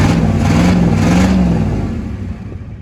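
A Ford 7.3 IDI diesel engine revs loudly nearby with a deep, rough, clattering drone that holds steady, then slowly fades as the revs drop.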